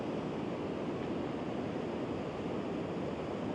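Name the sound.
waterfall at Pilot Falls creek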